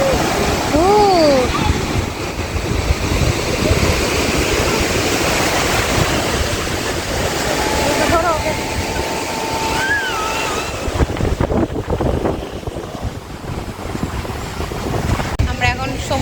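Ocean surf at a beach in Puri, a steady loud wash of breaking waves with wind buffeting the microphone throughout, a few faint whistling tones and distant voices far back in the mix.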